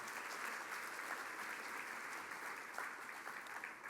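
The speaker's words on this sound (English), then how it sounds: "So give yourself a round of applause." A sustained round of applause from a large audience at a charity celebration gala, dense and even clapping that fills the room for several seconds without speech.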